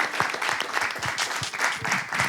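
Dense applause from a studio audience on a talk show, many hands clapping continuously and evenly throughout, fairly close and unbroken.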